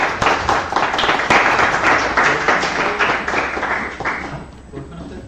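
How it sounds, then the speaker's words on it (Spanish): An audience at an academic metaphysics conference session breaks into steady applause that rises quickly, holds at a full level for several seconds, then thins out toward the end. "Un aplauso."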